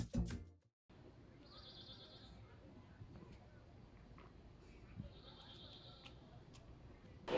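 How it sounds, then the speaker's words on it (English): Goats bleat in a goat barn at a youth fair, two drawn-out calls a few seconds apart over a steady murmur of barn noise, after a brief burst of voices at the start. "We are in the goat barn with Grant"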